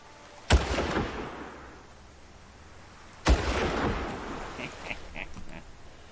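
Two loud, sharp sniper rifle shots in a PC video game, about three seconds apart, each followed by a long echoing rumble, with faint chirps trailing after the second.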